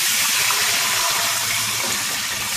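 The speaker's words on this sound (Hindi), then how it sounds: "अब मैं इसमें पानी ऐड कर दूंगी" Water poured into a pan of hot ghee and spices while cooking chicken biryani, a loud, steady hissing gush that continues unbroken throughout.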